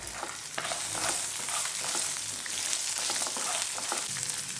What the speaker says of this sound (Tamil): எல்லாத்தையும் ஒன்றா சேர்த்து வதக்கிக்கலாம்.